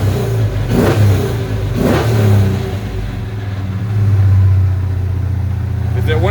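A 6.1 Hemi V8 swapped into a 1970 Dodge Coronet revs up several times in quick bursts over a loud, rumbling idle, close and powerful.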